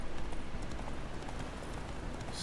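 Horse hooves clip-clop steadily at a trot in The Witcher 3, a quiet, even rhythm of soft hoofbeats continuing throughout.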